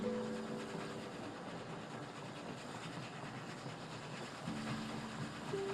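Train running in the Oddsparks video game: a steady rolling rumble with faint rail clatter, moderately quiet under a soft game music tone and with no voice.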